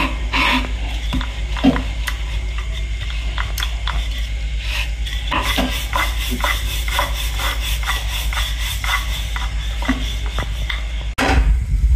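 Frying dough being stirred in hot oil so it puffs up: a steady sizzle runs throughout, broken by repeated scraping and stirring strokes at an even pace, close by with no talking.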